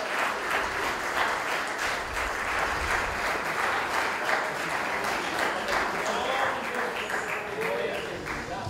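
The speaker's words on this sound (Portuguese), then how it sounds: "Você pode aplaudir o Senhor mais alto que você puder" Church congregation applauding steadily throughout, a dense, continuous clapping wash with a few voices mixed in and no pauses.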